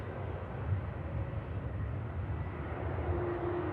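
An Airbus A220 lands at Manchester Airport with a continuous low, rumbling engine roar that stays steady and fairly loud, with no talk over it.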